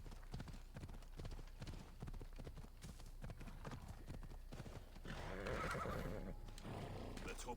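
Pegasus, a winged horse in the video game Assassin's Creed Odyssey, trots with rapid, dense hoofbeats, then gives a long, rising neigh over continuous game background sound. The whole clip is faint.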